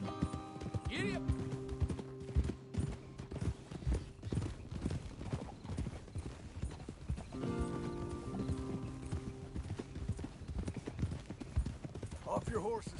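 Rhythmic hoofbeats of horses galloping along with occasional whinnies in Red Dead Redemption 2, layered under music and bursts of talking voices.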